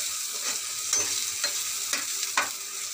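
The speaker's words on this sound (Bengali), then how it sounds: "আর দেখো উচ্ছা ভাজাটা চলছে আমার, উচ্ছা ভাজাটা চলছে।" Steady loud sizzling of bitter gourd frying in a pan, with a few scraping stirs breaking through, close up and without voices.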